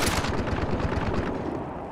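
Avtomat automatic rifle fired in a video game: a rapid burst of sharp, evenly spaced shots, loud and close, tailing off slightly at the end.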